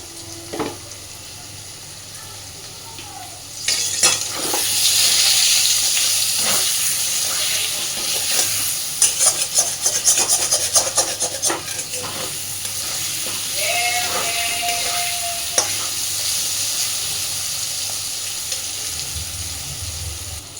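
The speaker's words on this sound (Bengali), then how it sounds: "আলুগুলো খুব সুন্দর করে ভাজা হয়ে গেছে" Potatoes seasoned with salt and turmeric sizzle and hiss as they fry in a pan, a steady close crackle with occasional stirring clatter and scraping.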